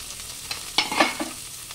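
Vegetables sizzle in a hot pan as a spoon stirs and scrapes through them in a few short, close strokes.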